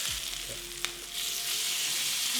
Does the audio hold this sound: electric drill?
no